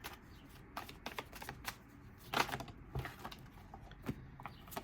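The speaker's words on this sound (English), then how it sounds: "And now from the tarot deck, 3 cards, please." A tarot deck is shuffled by hand, with quick riffling bursts and soft card slaps as cards are pulled from the deck, close and fairly quiet, with no speech.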